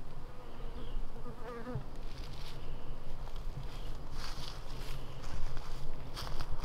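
Steady dense buzzing of many honey bees close by at a hive, a continuous drone with occasional louder passes and light rustling.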